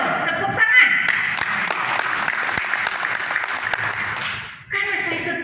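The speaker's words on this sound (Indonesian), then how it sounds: "Gereja loh, tepuk tangan." A church congregation breaks into loud, dense applause that runs on steadily for several seconds, cutting off briefly near the end before picking up again.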